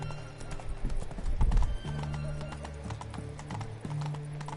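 Roach the horse gallops in a video game, steady clip-clop hoofbeats at a quick rhythm with a brief whinny, moderately loud over a low background drone.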